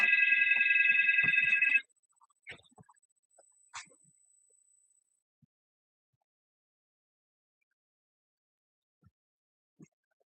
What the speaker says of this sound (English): This phone never rings.